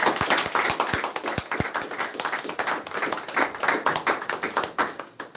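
A congregation at a temple service gives another round of applause to their brother spokesman: brisk, dense clapping from many hands, close and lively, holding steady for several seconds.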